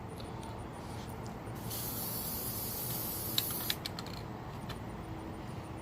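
Steady hiss of an aerosol spray paint can used outdoors in wind, continuous and fairly quiet, with a stronger burst in the middle and a couple of small clicks.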